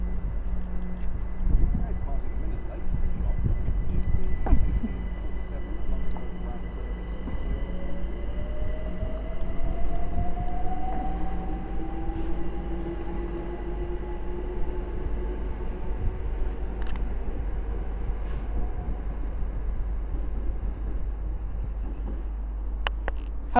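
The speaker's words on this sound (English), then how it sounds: "Departing now is the 1847 London Overground service to London Euston." A London Overground train pulls away from a platform at Harrow & Wealdstone station with a low rumble and rising, whining motor tones, wheels clattering faintly as it gains speed.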